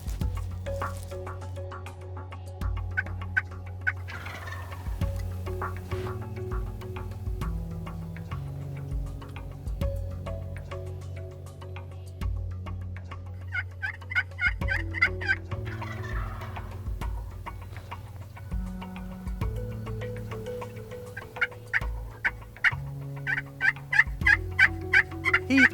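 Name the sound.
wild turkeys gobbling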